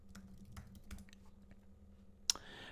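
Faint typing on a computer keyboard while entering a web address in a browser, scattered soft key clicks in a quiet room ending with one sharper keystroke, likely the Enter key, and no talking.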